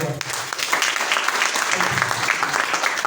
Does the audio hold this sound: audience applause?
yes